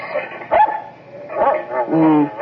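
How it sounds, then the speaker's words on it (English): Small dog barking several times outdoors on a lawn, short yapping bursts heard through a window, moderately loud with some room noise between barks. "There's a dog on your lawn."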